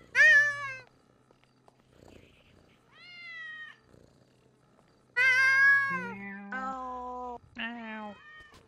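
Voices in a GTA 5 roleplay game imitate cat meows, several drawn-out, wavering mews in a row with short pauses between them, some rising and falling in pitch.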